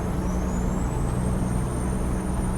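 Jake engine brake on a custom Kenworth W9 truck in American Truck Simulator: a steady, loud, low droning engine rumble held throughout, with a faint whine rising in pitch above it.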